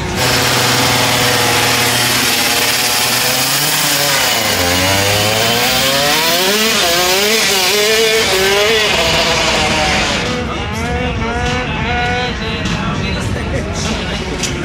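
Simson moped engines scream along a drag race strip at a big Simson meet, revs climbing and dropping repeatedly through gear shifts, loud and close, with a voice speaking over the noise.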